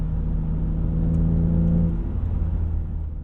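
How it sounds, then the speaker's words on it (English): A BMW E36 M3 engine, livelier than a stock S52, revs hard in a rising mechanical howl that climbs, holds, then eases back, loud and close, with no voices. "this thing loves to sing. It is way more rev happy than a stock S52, that's for sure"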